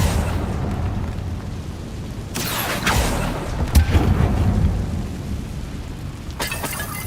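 Confringo fire spell explosions in the Hogwarts Legacy video game: a deep, rumbling blast bursts out around the midpoint, followed by another sharp crack and a later burst over a steady low roar. No one speaks.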